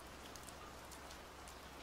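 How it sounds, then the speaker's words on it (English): Steady rain falling on a countryside road near the Mizuki Shigeru history placards, a dense even hiss that continues without a break from start to finish, with no voices. "I came on a rainy day."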